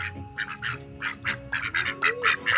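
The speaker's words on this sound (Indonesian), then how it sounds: "awas ya bebek." Ducks quack repeatedly in a lively, uneven series of loud nasal calls close by, outdoors in a garden while soil is being prepared for a coconut bonsai.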